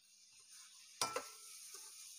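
Paneer pieces for desi Indian-style fried rice, stirred in a frying pan: a faint steady sizzle broken by one sharp clatter of stirring midway and a softer knock after, with no talk.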